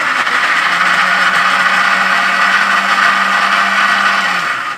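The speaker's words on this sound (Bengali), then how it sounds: "এই একটা সমস্যা, মিক্সারটা ফট করে বন্ধ হয়ে যায়" A loud electric mixer grinder whirs steadily with a dense, high-pitched buzz, running continuously before it cuts out abruptly on its own at the end.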